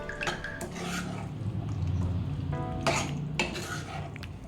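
A spoon scrapes and clinks against a pan while chickpea masala is stirred, giving a few distinct metallic knocks over a low background hum, close by and without speech.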